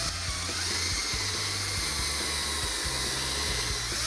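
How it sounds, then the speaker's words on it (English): A power drill bores halfway through a wooden board for a DIY bucket table, a steady loud whine with pulsing motor load throughout. "And you're gonna drill halfway through."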